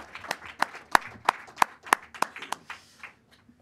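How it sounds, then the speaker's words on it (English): Sparse applause from a small audience at a film event, a handful of distinct, evenly spaced claps standing out over a light patter that tapers off. "Round of applause, guys."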